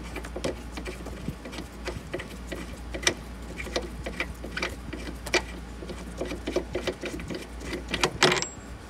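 Ratcheting and clicking hand-tool turns unscrewing the seatbelt brace bolt inside a 1989-97 Mazda Miata cabin, a steady run of small close metallic ticks with a sharper burst near the end.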